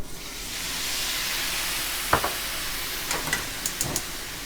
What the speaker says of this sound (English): now we are going to deglaze the pan